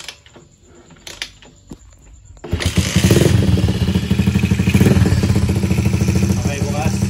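A skeleton-frame motorcycle, a bare chassis without body panels, starts after about two and a half seconds of quiet handling noises, then runs loudly and steadily at a close, rough idle.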